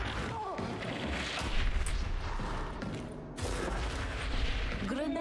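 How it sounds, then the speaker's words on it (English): Grenade blasts and combat noise in a video game, with heavy booming explosions and gunfire-like bursts over a dense, continuous battle din. "Grenades can be equipped and thrown."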